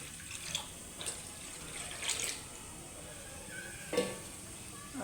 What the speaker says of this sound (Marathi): त्याच भांड्यामध्ये आपल्याला जेवढा रस्सा बनवायचा आहे तेवढं पाणी ओतायचं असं